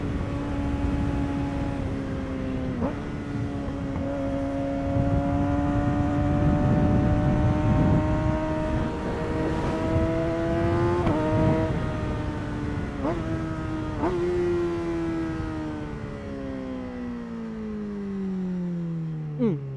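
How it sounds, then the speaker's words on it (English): A Kawasaki Z6R motorcycle engine revving, loud and close, with rising and falling pitch sweeps over a steady rumbling base and a few sharp throttle blips near the end, with no talking over it. "Z6R sounds so nice right now"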